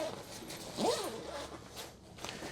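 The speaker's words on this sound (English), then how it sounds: "if you unzip it, it goes all the way around the bag" A travel bag's expansion zipper is drawn open in one quick close-up pull, a short rasping zip followed by softer rustling of the fabric, with no talk.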